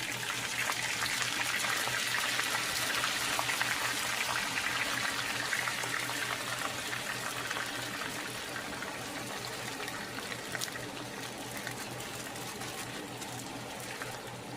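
Frozen sweet corn kernels hit melted butter in a hot skillet, raising a loud, steady, hissing sizzle that barely fades over the whole stretch.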